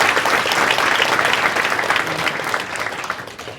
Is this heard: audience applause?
yes